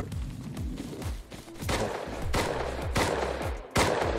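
Gunfire in the survival video game Rust: a rapid series of sharp, loud shots fired in bursts and single cracks, with short gaps between volleys, close and dominant throughout.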